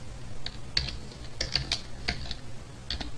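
Keys clatter on a computer keyboard while Java code is typed, a scattered run of light clicks at an uneven pace, close and alone with no talking.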